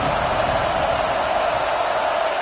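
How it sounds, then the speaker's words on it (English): Loud, steady roar from a big crowd at a Penn State football game in Happy Valley on third down, a dense unbroken wash of noise with no clear individual voices. "Here comes the noise from this big crowd in Happy Valley on third down"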